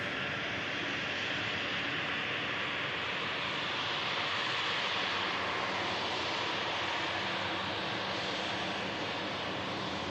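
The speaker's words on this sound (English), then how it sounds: "Air Portugal coming in from Lisbon with the Embraer E190." An Air Portugal Embraer E190 arriving from Lisbon, a steady broadband jet whine and hiss at moderate distance, fairly even throughout with no voices.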